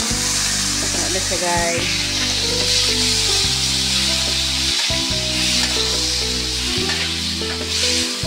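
Chicken sizzling and frying in a small amount of cooking oil for chicken tinola, a loud, steady hiss with stirring scrapes throughout, while someone talks over it.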